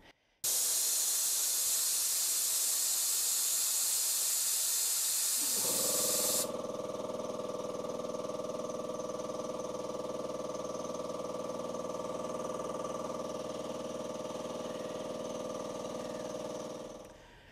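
An Evans 70-liter air compressor: a loud hiss of air being released, then the motor kicks in with a steady droning hum that runs until it cuts off near the end.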